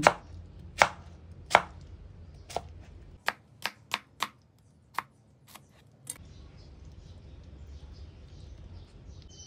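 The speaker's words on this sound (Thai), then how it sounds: "หั่นสับปะรดเป็นชิ้น ปกติเลยค่ะ หั่นเป็นชิ้นพอดีคำ" A knife chops sharply through pineapple into bite-size pieces on a board, about a dozen crisp cuts, some spaced apart and some in a quick run, close and clear.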